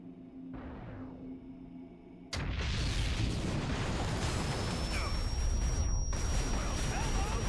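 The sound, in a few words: airstrike explosions from the Titan in the video game XCOM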